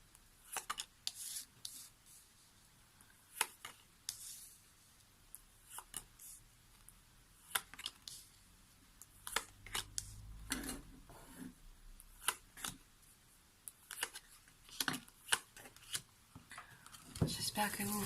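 Tarot cards shuffled and laid out for a Christmas reading, giving soft repeated riffling, rubbing and flicking sounds with scattered sharp card snaps, close and fairly quiet, with some low handling bumps.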